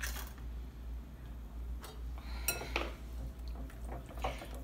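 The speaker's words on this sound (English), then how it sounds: "I'm gonna whisk this a little bit together." A whisk stirs a dairy-free Haitian kremas mixture in a bowl, producing a few faint, scattered metallic clinks over a low steady background hum.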